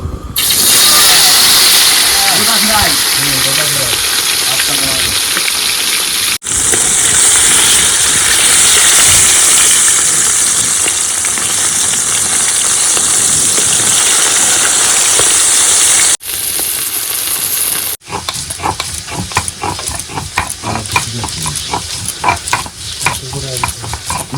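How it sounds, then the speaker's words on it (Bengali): Whole lobster frying in hot oil in a home kitchen, a loud steady sizzle and hiss running throughout with a couple of abrupt breaks, then a crackly, spattering stretch near the end, with voices talking underneath at times. "আর তেল গরম হয়ে গেছে, এখন প্রথমে লবস্টারটা ভেজে নেবো।"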